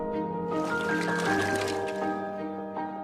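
Water runs from a Coway Aqua Mega 200C water purifier in a steady filling stream, with sloshing and rising tones as a container fills, close and moderately loud, no talk.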